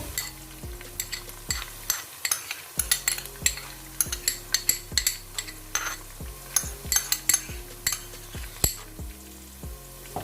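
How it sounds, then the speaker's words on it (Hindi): Garlic ginger paste being stirred into onions frying in ghee: a steady sizzle under repeated spoon scrapes and clinks against the pan, close and fairly loud, with no talking. "अब हम इसके अंदर लहसुन अदरक का पेस्ट ऐड कर देंगे।"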